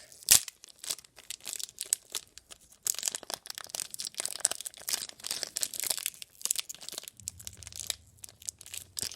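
A Hot Wheels Pokemon toy package is torn and unwrapped close up, with dense crinkling, rustling and ripping of plastic and card in quick irregular bursts, plus one sharp snap near the start.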